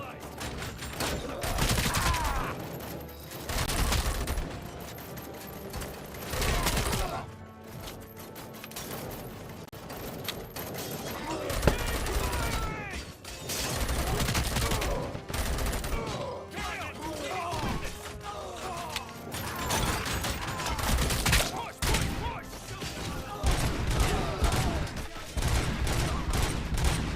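Gunfire fills a RoboCop Rogue City video game firefight, dense volleys of shots and mechanical clatter rolling on almost without pause, loud and busy with occasional shouted voices mixed in.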